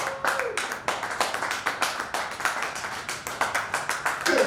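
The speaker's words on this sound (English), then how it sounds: "Y'all clap it up for UpTown." A comedy club audience at a Miller Beach theatre show claps in slow, loose unison, a rhythmic run of distinct, fairly close hand claps that builds into denser clapping at the end.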